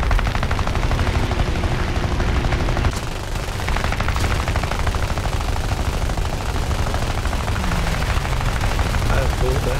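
Aircraft guns firing in War Thunder air arcade battle from a Fokker D.XXI: loud, dense rattling bursts of machine-gun fire over a constant engine roar, nearly continuous with a brief pause around three seconds.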